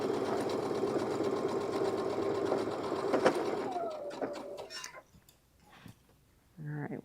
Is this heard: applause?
no